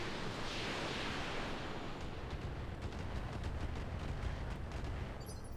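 Weapons fire in the RogueTech BattleTech game aimed at a Warhammer mech: a dense, continuous roar of booming shots and rumbling blasts filling the whole stretch, loud and unbroken.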